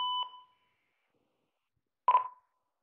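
Marine radio alarm for a yacht's automatic position request, beeping in two short electronic bursts: a steady two-tone beep at the start, then after a pause a second harsher beep, both close and clear in a quiet cabin.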